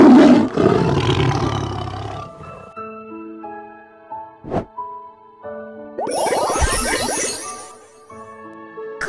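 Cartoon tiger roars from a wild animals learning game app for babies: a loud growling roar, then chiming jingles and a single plop, then a second long roar, all close and loud over the game's tinkling tones.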